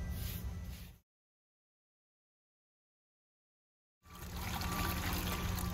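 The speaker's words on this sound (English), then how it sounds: "We're going to add enough water for the application to mix by eye." Water trickling and pouring for mixing SILPRO TDQ cementitious material over concrete, a steady close splashing stream that cuts out completely for a few seconds of silence before resuming.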